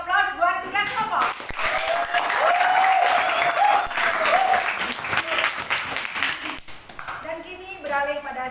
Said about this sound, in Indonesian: mari kita kasih aplaus buat 3 kelompok